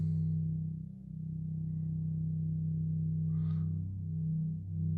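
Two close, steady sustained tones are drawn back into unison, a smooth low drone heard alone for several seconds with a faint brief higher sweep partway through.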